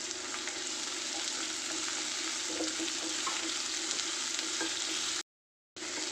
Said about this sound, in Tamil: இப்போது பச்சை மிளகாய் ஆட் பண்ணி நல்லா வதக்கிக்கலாம்.